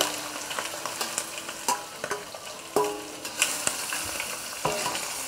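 Pork ribs frying in caramelized rock sugar in a wok, a steady close sizzle punctuated by repeated sharp scrapes and clacks of stirring at an uneven rhythm.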